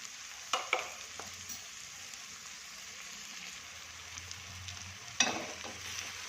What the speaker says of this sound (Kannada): ಶುಂಠಿ ಬೆಳ್ಳುಳ್ಳಿ ಪೇಸ್ಟ್ ಹಾಕೋತೀನಿ